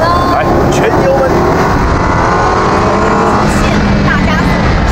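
A new-generation Land Rover Defender, a 2.0-litre direct-injection turbo petrol of about 300 hp in a three-ton off-roader, accelerates hard at full throttle, its engine a loud, sustained roar with rising tones, with voices talking inside the cabin.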